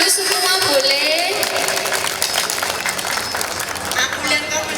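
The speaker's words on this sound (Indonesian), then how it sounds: "Ini adalah tepuk tangan dulu semua boleh." An audience at a public forum in Malang claps in a dense burst, with voices and bright tones layered over the clapping as it carries on at a steady level.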